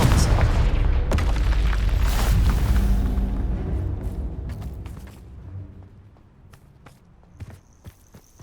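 Explosive spells such as Bombarda and Confringo go off in Hogwarts Legacy on PS5, with a heavy rumbling blast at the start that slowly decays, followed by scattered sharp impacts and clicks.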